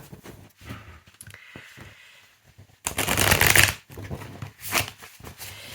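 Tarot cards being shuffled close up, with soft rustling and slides that swell into a louder burst of riffling, then a few quieter shuffles and taps.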